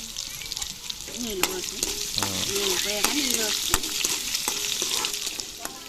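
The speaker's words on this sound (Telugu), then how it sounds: "ఇంకా ఉల్లిపాయలు తాలింపులు" Onions and spice tempering fry in a pan while being stirred, giving a steady close sizzle with repeated spoon scrapes and clinks over about six seconds.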